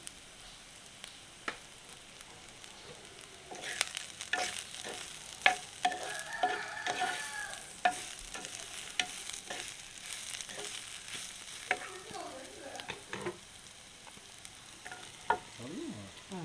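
Chopped radish fries in oil for a Jaffna-style curry, sizzling softly throughout while a spoon stirs and scrapes the pan in irregular knocks and clinks.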